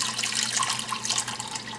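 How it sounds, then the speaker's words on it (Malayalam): Water pours steadily into a pressure cooker holding broken wheat for payasam, a close, continuous splashing trickle like a running tap with no voices. "ഇതിലേക്ക് വെള്ളം ഒഴിച്ചെടുക്കുക."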